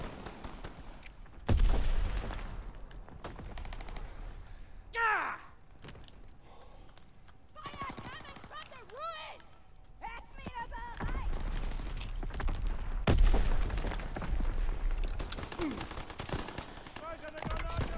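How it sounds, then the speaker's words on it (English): Gunfire and incoming enemy mortar fire in the WWII battlefield of Call of Duty: WWII, with sharp loud blasts and rattling shots scattered over a continuous rumble of combat, while voices call out during the fighting. "Enemy mortar fire incoming."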